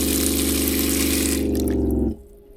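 Running water from the tap of a portable sink in a camper van pours steadily, then cuts off abruptly near the end, leaving a quiet tail.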